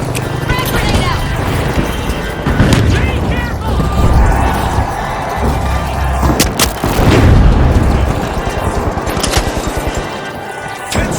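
A frag grenade explodes in a shooter video game, giving several loud booming blasts mixed with gunfire-like crackle. Voices talk over the action throughout.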